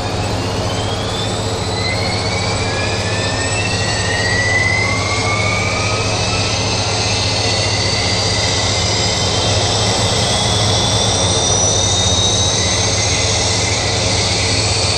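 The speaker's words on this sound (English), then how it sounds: "Right engine, start button pressed. Starting. Allow engine to stabilize." The right jet engine of an aircraft in a flight simulator game spools up, a steady loud roar with rising whine tones that climb and settle, continuous throughout with no talking.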